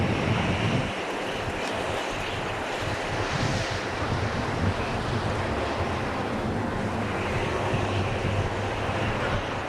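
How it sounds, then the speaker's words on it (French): Icy wind of a Siberian snowstorm gusting at over 120 km/h, a loud, continuous rushing roar buffeting the microphone with low rumble, no voices present. "Le vent glacé souffle en rafale à plus de 120 km/h."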